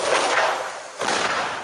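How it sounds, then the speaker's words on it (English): Thermite cutter charges fired in a backyard experiment, heard as two sharp, loud broadband bursts with a brief dip between them, muted rather than explosive, with no talk. "But you can make thermite cutter charges in your own backyard, like John Cole, civil engineer, did."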